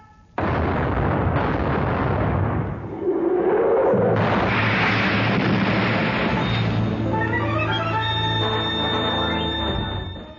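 Cannon on a sailing warship fire red-hot shot in a radio-drama naval battle, a loud, close boom followed by a long, rumbling roar and a second heavy blast with ringing, lingering echoes.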